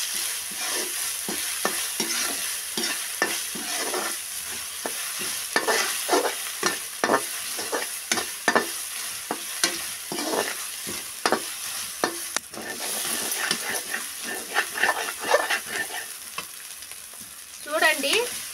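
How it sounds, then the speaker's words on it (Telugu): Onion masala is fried in a pan with a steady hiss and sizzle, broken by frequent sharp scrapes and taps from a spoon stirring it. Close and continuous, with no talking. "ఇది ఉల్లిగడ్డలకు బాగా కలిసేటట్టు కలుపుకోవాలండి. పచ్చి వాసన పోయే వరకు బాగా వేపుకోవాలండి."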